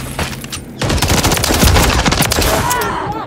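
Dense rapid gunfire in Call of Duty: Modern Warfare III multiplayer, a loud sustained automatic burst that starts sharply after a short lull and keeps rattling close by with no clear pauses.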